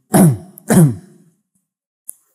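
Two quick, close throat clearings in a row, followed by near silence with a faint click.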